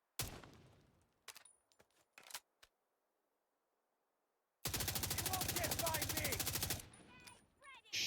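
Automatic gunfire from a firefight in the shooter game The Division 2: a dense, loud burst of rapid shots lasting about two seconds, preceded by a few scattered single shots and thuds, with quieter game ambience around them.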